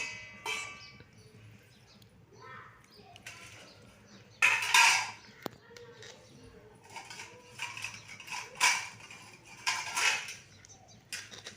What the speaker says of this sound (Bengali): সব থালা বাসন গুছোচ্ছে একটা একটা করে